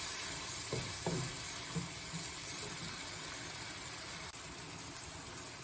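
Tomato and egg stir-fry sizzles steadily in a pan, a constant close hissing fry with a few soft stirring knocks near the start.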